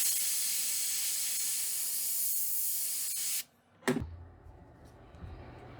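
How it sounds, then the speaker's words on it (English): Spray paint hisses in a steady, close, bright stream over a stencil laid on a wooden Atlantic croaker crankbait fishing lure, then cuts off, followed by a short click and quieter handling. "I'm just going to spray right down the center of the lateral line"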